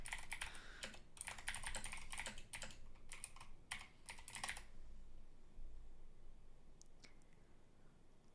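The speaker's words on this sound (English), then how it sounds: "I got my switches are Cherry MX Blues, and I've got the Keychron K8 wireless." Clicky typing on a Keychron K8 wireless keyboard fitted with Cherry MX Blue switches, a quick run of close, crisp keystrokes for about four and a half seconds, then near quiet with only a couple of faint clicks.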